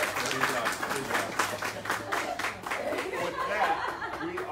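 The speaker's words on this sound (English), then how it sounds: "I want to give a big round of applause to our visiting expert" Zoo audience applauding a visiting expert during a newborn tiger announcement, a short burst of scattered clapping mixed with light laughter and speech.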